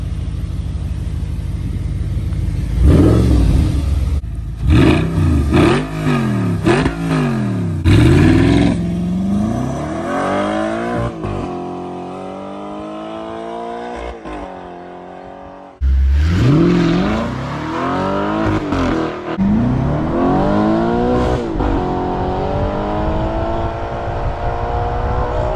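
Audi R8 supercar, an Iron Man edition, launching hard from a standing start: a loud, close engine revving up through several rapid gear changes, then dropping off briefly before a second strong surge of acceleration.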